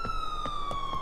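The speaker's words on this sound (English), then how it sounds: "it looks like a police car is coming here" Police car siren in the video game Grand Theft Auto IV, a loud steady wailing tone with rhythmic pulses underneath, sounding close and alone for a brief moment.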